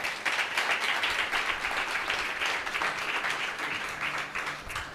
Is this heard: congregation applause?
yes